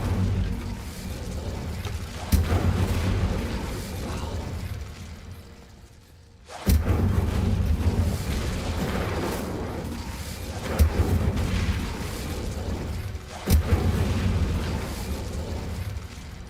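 Repeated fiery spell blasts in Hogwarts Legacy erupt as sharp booming bursts over a dense, roaring gameplay backdrop, with a brief quieter lull before the explosive casting resumes.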